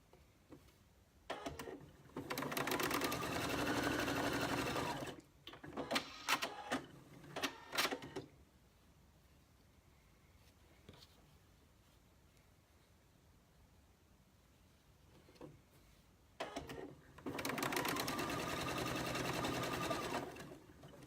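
A sewing machine stitches rows of patchwork for a pin cushion in two long, steady runs of rapid mechanical whirring, separated by a quieter pause with a few short clicks and bursts.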